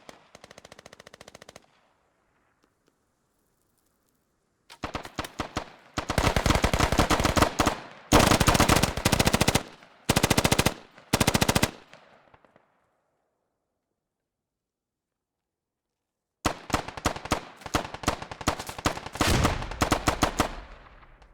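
Gunfire in a Squad firefight comes as loud bursts of automatic fire, several separate strings with silent gaps between them and a final rapid volley, with no talk.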